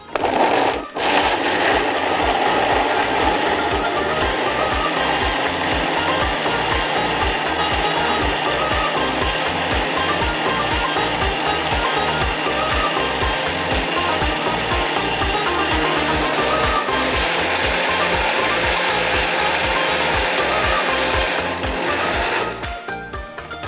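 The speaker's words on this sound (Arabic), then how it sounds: "يلا بقى نخلطهم كويس مع بعض حطينا كل حاجة الفانيليا الليمون العسل الأفوكادو الموز والحليب" An electric blender whirs continuously, mixing avocado, banana, milk, honey, vanilla and lemon into a juice, with a loud, steady motor roar and a fast rhythmic chopping pulse that stops near the end.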